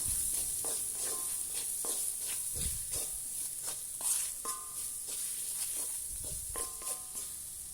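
Garam masala and ground pepper being stirred into food frying in a pan, a soft sizzle broken by regular scraping strokes of a spoon, close and fairly quiet, with no talking.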